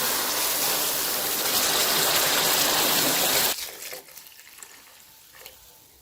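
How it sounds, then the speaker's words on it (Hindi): Yakhni broth pours steadily into a pot of fried beef and rice, a loud continuous gushing stream that stops abruptly, followed by faint small splashes and clinks. "अब यखनी जो है मैंने इसके अंदर ऐड कर ली है"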